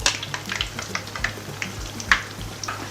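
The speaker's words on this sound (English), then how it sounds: "You fry it until it turns out light golden brown color." Funkaso dough frying in hot oil, a steady crackling sizzle with scattered sharper pops and bursts, close and moderately loud throughout, with no voices.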